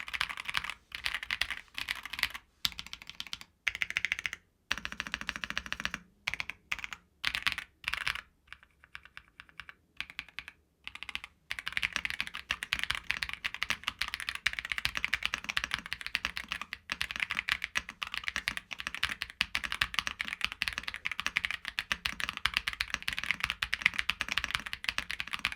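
Rapid typing on a keyboard with Royal Kludge cream switches, smooth linear 45-gram switches with short travel, giving dense close-up clacks in bursts with brief pauses, then a continuous fast stream.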